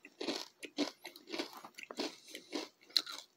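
Crunchy rice cracker snack mix, a Dollar Tree assortment with a light glaze, being bitten and chewed up close in a steady series of about eight loud crisp crunches with short pauses between them.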